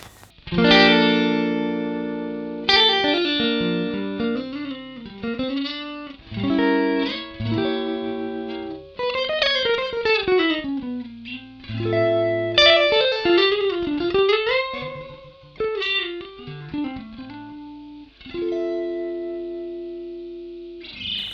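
Electric guitar played through an Ibanez ES3 Echo Shifter analog delay pedal, a run of sustained chords and melodic lines with pitch-bending echoes and repeats trailing each phrase, close and steady in level with no talking.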